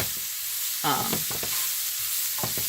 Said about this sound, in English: So we're just going to saute these off for about a couple minutes